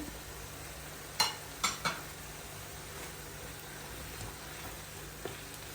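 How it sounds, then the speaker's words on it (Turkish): Tomatoes, tomato paste and spices cook in a pan with a soft, steady sizzle, broken by a few sharp spoon clicks against the pan in quick succession near the start and one more later, close and quiet, with no talking. "Hepsini güzelce karıştırın."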